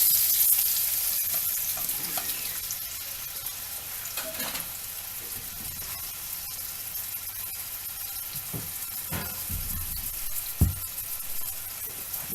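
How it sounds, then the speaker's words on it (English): Chopped onions saute in piping-hot extra virgin olive oil, a steady close sizzle and crackle that runs throughout, with occasional scrapes and knocks of stirring. "Let that saute for a little bit."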